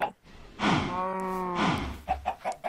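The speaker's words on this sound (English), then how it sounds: "So it looks like I'm gonna kill one of these cows." A cow in a survival video game gives one drawn-out moo, clear and near, followed by a few short soft thuds.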